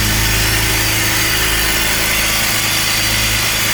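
A BMW M54 inline-six car engine idles steadily and close by just after a valve cover replacement, a smooth, even hum with a low rumble that holds constant for the whole stretch, with no voices.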